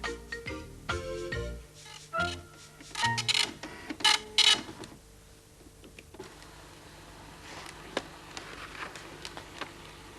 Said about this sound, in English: run this off on the printer for me